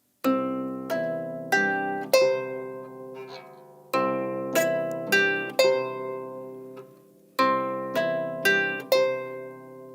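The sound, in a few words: harp finger exercise with both hands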